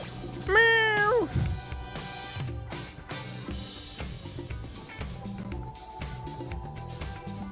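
A cat gives one loud, drawn-out meow near the start, close and clear above a busy, steady background of music and other sounds.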